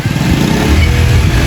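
Motorcycle engine running and revving close by, a loud rough continuous drone with rising and falling low rumble throughout.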